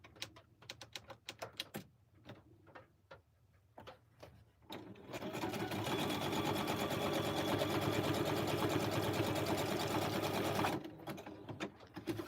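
A sewing machine runs a zigzag stitch through fabric scraps, starting with a few slow stitches and then a steady, fast, close mechanical whir for several seconds before stopping.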